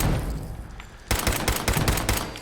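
Gunfire in Fallout 4, a quiet ambient lead-in giving way to a rapid burst of sharp, loud shots in quick succession for over a second.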